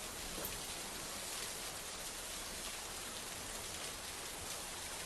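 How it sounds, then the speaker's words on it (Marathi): Heavy monsoon rain pours down steadily in Maharashtra, a dense, even roar of drops with no breaks and no voices. "उजनी धरण साखळीत जोरदार पाऊस सुरू आहे।"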